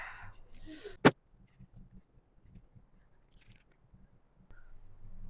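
A single sharp, close bite crunches into a chilli during a dare challenge, followed by quiet chewing; a voice speaks just before.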